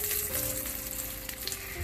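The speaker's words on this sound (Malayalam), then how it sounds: "അപ്പോൾ നമുക്ക് നമ്മുടെ കട്ട്ലറ്റ്സ് പൊരിച്ചെടുക്കാം" Cutlets fry in oil over medium-high heat, a steady, dense sizzle and crackle that runs unbroken and fairly loud throughout.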